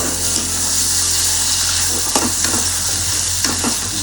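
Turmeric and chilli powder stirred into hot oil in a frying pan for a prawn malai curry make a loud, continuous sizzle, with a few distinct scraping strokes of the spoon.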